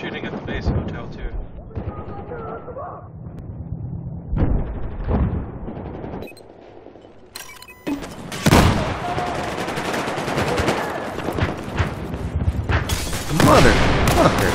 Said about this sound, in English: They're shooting at the base hotel, too.